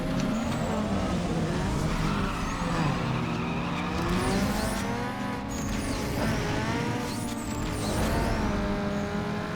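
Engine roar and squealing tires from a car sliding under the handbrake in the racing video game Need for Speed Underground 2, loud and continuous with rising and falling engine pitch.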